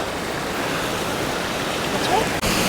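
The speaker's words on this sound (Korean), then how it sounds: "시원한 물소리가 벌려놓은 걸로 봐서는 폭포물이 위에 있을 것 같은 생각이 듭니다" Steady broadband rush of falling water from Bridal Veil Falls near Vancouver, a constant wash of noise with no breaks and a faint brief disturbance near the end.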